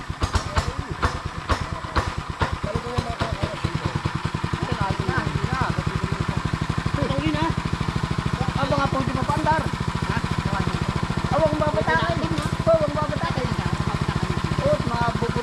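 A motorcycle engine idles close by with a steady, rapid chugging throb that continues throughout, while people talk over it.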